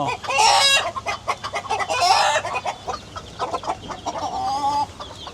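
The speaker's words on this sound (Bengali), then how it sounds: "মুরগি তো ডিম পায়রা উঠে একটা আপনার ডাক দেয়" Hens cluck loudly and insistently in overlapping bursts, close by, with a rooster-like crowing call rising among them.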